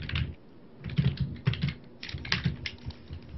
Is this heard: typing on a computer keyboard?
yes